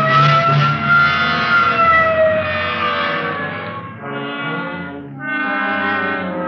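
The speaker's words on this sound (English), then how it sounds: "Okay, hit the siren." A loud, wailing police car siren rises and falls in long sweeping tones, close and continuous, dipping briefly before swelling again.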